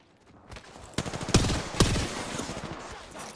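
Burst-fire weapon in Apex Legends firing two distinct quick bursts of gunshots, loud and close, after a quieter start with faint background game noise.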